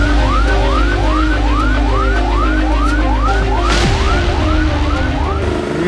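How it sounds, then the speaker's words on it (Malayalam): An ambulance races to Adimali Taluk Hospital in Kerala after a landslide, its siren blaring loud and close in a fast, evenly repeating wail over engine noise throughout. "ആംബുലൻസ് ശരവേഗത്തിൽ അടിമാലി താലൂക്ക് ആശുപത്രിയിലേക്ക്."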